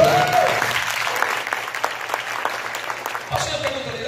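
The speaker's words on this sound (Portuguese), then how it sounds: "uma salva de palmas para os nossos representantes." A live audience bursts into steady, dense applause at a leadership talk, the clapping sustained and fairly loud for about four seconds before thinning out.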